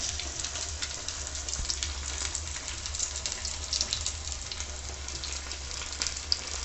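Bombay duck (lotte) fish fry cooking in a little oil, a continuous close sizzle and bubbling hiss with a low steady hum beneath and a few faint scrapes, no voices.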